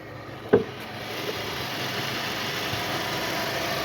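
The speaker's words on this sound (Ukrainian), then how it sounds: "Слухаємо, як працює двигун, досить тихо працює." A 2006 Volkswagen Touran 1.6 MPI engine, 196,000 km, idles steadily and quietly at close range under an open hood, with a single sharp knock near the start, then an even, smooth hum.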